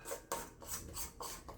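A spatula scrapes the sides of a blender bowl of whipped mango body butter in a series of soft, rasping strokes, close and quiet, with no talking.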